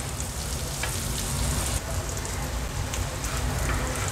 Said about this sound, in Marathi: पुन्हा आपण एक अर्ध्या ते 1 मिनिटासाठी दुसरी बाजू देखील फ्राय करून घेऊया